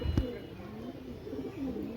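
Soft, low cooing of pigeons at a pigeon house, repeating steadily at a moderate distance, with a brief thump near the start and faint background hum.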